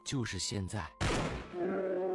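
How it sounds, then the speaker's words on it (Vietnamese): A single sharp gunshot from a hunter's gun bursts out right after a brief spoken line, then its blast decays into a fading rumble. "Đại Ngưu, mau nổ súng đi."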